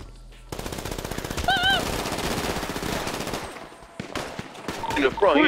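Rapid bursts of automatic gunfire in a GTA V roleplay game, loud, close and sustained over several seconds, with brief gaps and a final flurry of shots at the end.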